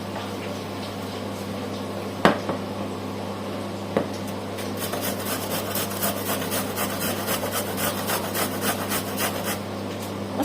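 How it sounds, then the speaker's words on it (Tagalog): Frozen green papaya is grated by hand, rapid rhythmic scraping strokes that start after a couple of isolated knocks and then continue steadily, fairly close, over a constant low hum. "Mas gusto ko pa rin po siyang ikayod kasi mas maganda po yung texture niya"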